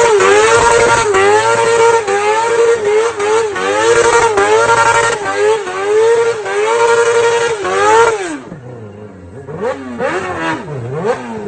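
A drift car engine revs hard and loud, climbing and dropping through repeated throttle blips for several seconds before settling into lower, choppier revving near the end.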